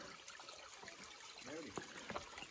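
Faint trickling and dribbling of a small stream beside the Appalachian Trail, soft and close with light irregular splashes, a voice briefly sounding over the water.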